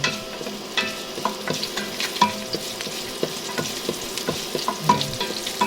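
Onion-free early stage of arroz caldo cooking: ingredients frying over raised heat while being stirred in a pan, a steady close sizzle broken by frequent scraping utensil clicks, with no talking.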